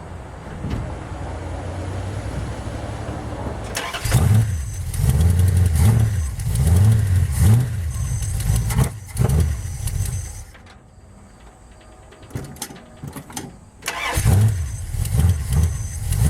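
A Dodge drag truck with a 5.9 Magnum engine and carburetor cranks and fires up, then revs in loud, close, pulsing bursts. It quiets briefly, fires again with short sputters and ends in more rough revving.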